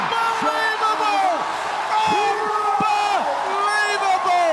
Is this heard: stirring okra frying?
no